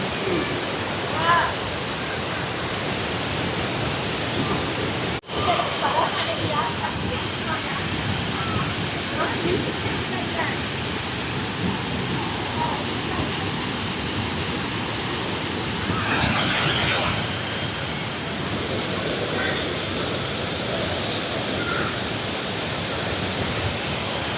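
A heavily flowing waterfall pours with a steady, loud, broadband roar throughout, too strong for anyone to bathe in, with voices faintly present over the rush.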